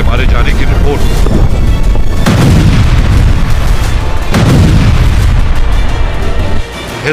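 Heavy booms and rumbling blasts from Israeli ground and air attacks in Rafah roll through a loud, dense, continuous din, with two stronger low impacts standing out.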